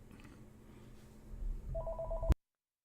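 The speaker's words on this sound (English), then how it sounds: "Give me 1 second while that phone stops ringing so you don't hear it." A telephone rings in a quiet room, a short repeated electronic ring coming in near the end, moderately loud over faint background hum before it cuts off abruptly.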